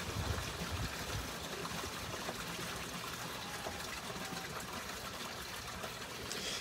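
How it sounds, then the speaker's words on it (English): Water rushes hard through a 2-inch (50 mm) aquaponics siphon pipe, a steady, loud, broadband gushing that holds constant for the whole stretch with no voices. "I'm impressed by just how much force that 50 mil 2-inch siphon runs at. That's pulling an awful lot of water."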